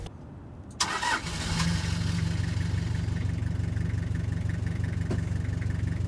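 A Toyota Hiace diesel engine cranks briefly and catches, then settles into a steady, close, rumbling idle that continues alone.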